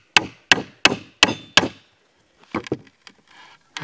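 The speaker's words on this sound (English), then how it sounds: "Hit it with a hammer here." Hammer striking Estwing nail jack pliers onto a nail: five sharp, evenly spaced metallic blows, close and loud, followed by a few softer knocks and taps.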